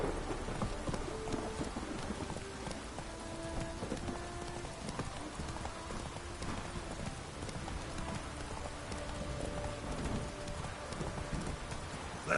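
Roach, the horse in The Witcher 3, gallops steadily in rain with a rapid clip-clop of hooves over constant rainfall and occasional rumbling thunder, continuous and close throughout.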